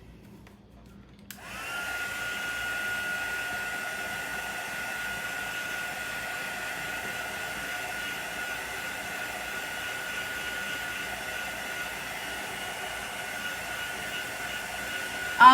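A hair dryer starts up after a brief quiet moment and blows steadily at close range, drying chalk paste on a craft project with a constant airy whine.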